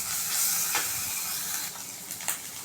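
Ginger garlic paste with turmeric fries in a hot pan for a prawn curry, giving a steady bright sizzle and hiss with a couple of sharper crackling bursts, close and alone.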